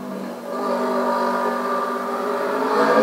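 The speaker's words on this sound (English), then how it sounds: "There's that motorbike again." A motorbike engine hums steadily in the distance, its tone swelling slightly as it passes by, with no talking.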